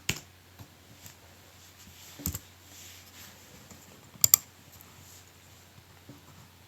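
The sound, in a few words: typing a patch comment on a computer keyboard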